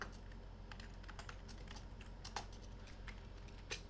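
Typing on a computer keyboard while writing Python code for a login page, with quick irregular key clicks, close and fairly soft, over a quiet background hum.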